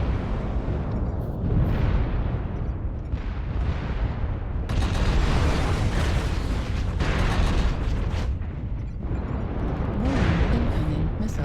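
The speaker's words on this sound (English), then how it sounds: "Warning, incoming missile. The LRM spam is real!" Incoming LRM missile strikes pound continuously in MechWarrior Online, a dense roaring barrage of overlapping explosions that barely lets up across the whole stretch.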